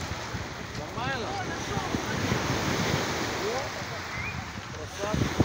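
Sea waves wash onto a Sochi beach on a windy evening, a steady broad surf roar with gusting wind buffeting the microphone, while people talk in the background throughout.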